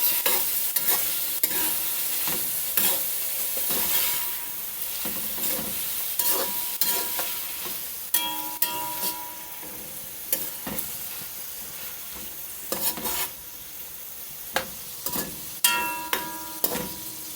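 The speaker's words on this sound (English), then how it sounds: "Now I'm going to stir it a bit." Onion with natural seasoning is stirred in a frying pan, the spoon scraping and clacking in irregular strokes over a steady sizzle, close and fairly loud, with no talking.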